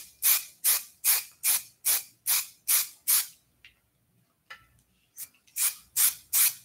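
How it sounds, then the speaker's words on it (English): Hairspray is sprayed on hair in a quick series of about nine short, sharp hisses at an even rhythm, a pause with faint handling, then four more bursts, close by and without talk. "So now I'm going to use a little bit of hairspray."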